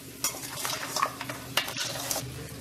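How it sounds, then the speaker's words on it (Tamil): Crab masala with chilli powder is stirred in a pan, a soft sizzle under quick scraping strokes and light clicks of the spoon, fairly quiet and close. "இதை மிளகாத்தூள் இதெல்லாம் போட்டு இந்த நண்டோட சேர்த்து அப்படியே கிண்டிக்கிடுவோம்"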